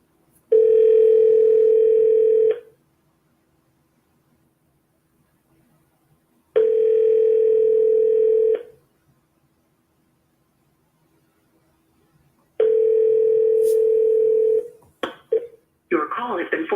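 Ringback tone on an outgoing phone call: three long steady ringing bursts, about two seconds each and spaced several seconds apart, clear and close, with a brief clatter of other sound at the very end.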